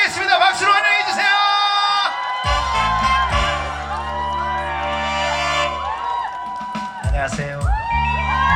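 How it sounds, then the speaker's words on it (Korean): A festival crowd at an outdoor stage event in Ulsan cheers and whoops to welcome a performer, close and loud over booming, bass-heavy stage music throughout. "박수로 환영해 주세요."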